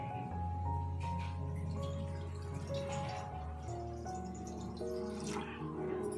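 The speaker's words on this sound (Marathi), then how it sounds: "आणि ताटावर असं पाणी ओतूया." Water poured from a vessel onto a metal plate set as a lid over a pot of Savji chicken cooking on a stove, a steady splashing trickle lasting several seconds with a low hum beneath.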